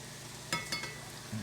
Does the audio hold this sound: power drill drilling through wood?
no